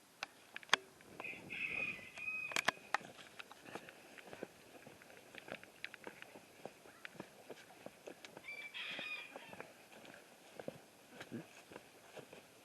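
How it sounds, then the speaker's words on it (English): Chickens and roosters in a backyard flock crow and cluck at a moderate distance, with several drawn-out crows among scattered clucks and rustling, and faint talk in the background. "I mean, those chickens are having fun."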